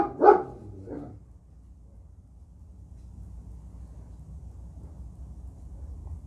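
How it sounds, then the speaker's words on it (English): A dog outside a barn lets out two loud barks in quick succession, the first stronger, then falls silent over a low steady background hum. "The dog was barking right outside of the barn."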